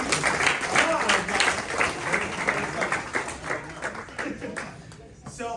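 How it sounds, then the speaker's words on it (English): Audience applause in a university hall during an entrepreneurship talk, with clustered hand claps swelling and thinning over several seconds while a voice speaks over the clapping. "Give him a round of applause."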